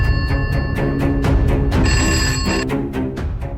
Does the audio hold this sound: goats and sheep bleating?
no